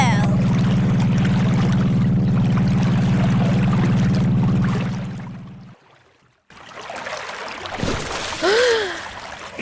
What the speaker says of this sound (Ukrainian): Добре, я включаю мотор.